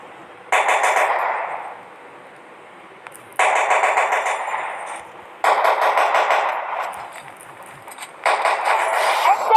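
Gunfire in a shooting video game: four separate bursts of rapid automatic fire, loud and close, each lasting about one to two seconds with short quiet gaps between them.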